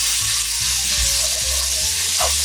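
Minced garlic sizzles in about two spoonfuls of cooking oil in a pan over low heat, a continuous close crackling hiss with faint stirring scrapes.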